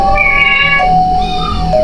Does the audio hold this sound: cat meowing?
yes